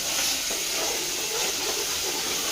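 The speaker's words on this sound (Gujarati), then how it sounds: "વઘાર ચાલુ થઈ ગયું વઘાર કરે છે અત્યારે" Methi tempering (vaghar) in hot oil gives a steady, loud, dense hiss and sizzle, continuous throughout with no breaks.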